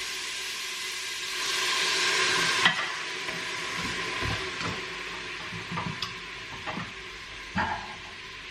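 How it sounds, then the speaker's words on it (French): White wine poured into a hot pan for deglazing, a steady broad sizzle that swells loudly for a few seconds, then settles under scattered clinks and scraping stirs of a utensil. "Comme il me reste un petit peu de vin blanc, je vais en mettre un petit peu pour déglacer."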